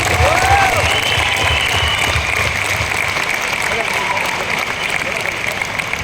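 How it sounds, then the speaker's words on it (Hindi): Sustained applause from a huge crowd of more than 14,000 people at a large motivational speech event, a dense steady clapping roar filling the whole stretch with some voices mixed in. "सब लोगों के लिए एक जोरदार ताली होना चाहिए"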